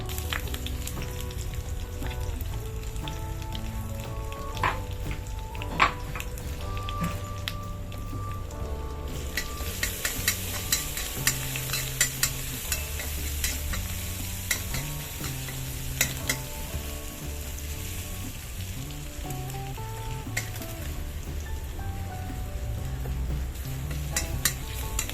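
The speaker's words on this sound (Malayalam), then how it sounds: "ചതച്ച ഇഞ്ചിയും വെളുത്തുള്ളിയും നമുക്ക് എണ്ണയിലേക്ക് ചേർത്ത് കൊടുക്കാം." Crushed ginger and garlic frying in hot oil for a soya chunks roast, a dense close sizzle with stirring scrapes and spatters that grows louder and crackles more midway, with no talking.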